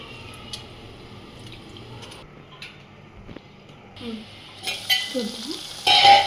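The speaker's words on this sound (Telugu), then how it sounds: "చూడండి, కొంచెం ఫ్రై అయిపోయింది ఆయిల్లో మునక్కాయ" Drumstick pieces fry in hot oil for a drumstick and brinjal pulusu, giving a soft, low sizzle and stirring sounds. The frying is faint at first, then brighter sizzles and pan clatter come near the end.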